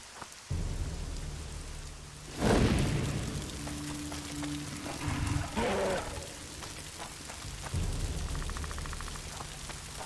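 Steady rain falls in the video game The Witcher 2, with a sharp burst like a bomb blast or thunder partway through and low game music droning underneath.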